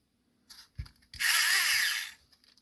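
Handheld hobby drill boring into a plastic miniature: a few small taps and bumps, then a close, loud whirring drill burst lasting about a second before stopping.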